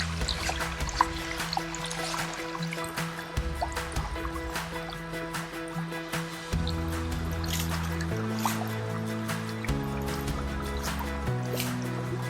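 Creek water trickles and drips softly and close by, with irregular small splashes over a faint steady background, and no talking.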